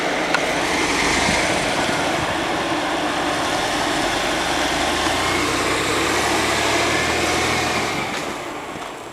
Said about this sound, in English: You're fruitlessly spinning tire.